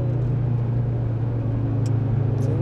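A Suzuki Swift Sport rally-style demo car's engine runs with the accelerator pressed, giving a steady, loud, low droning rumble that holds constant throughout without any talk over it.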